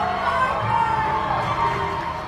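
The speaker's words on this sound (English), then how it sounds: "fan base is on their feet, making some noise" Avery County fans cheering at a night high school football game against Ashe, a loud sustained crowd roar with whoops and shouts, mixed with an announcer talking over it.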